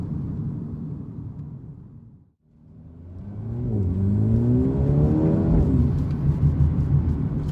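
A Mercedes A35 AMG 4MATIC engine drops off briefly, then surges as the hatchback accelerates hard, its rising revs climbing through the gears, loud and close from inside the car, with no talk.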